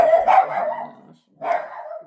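A dog barks indoors, two moderately loud barks separated by a short pause, with no talking over them.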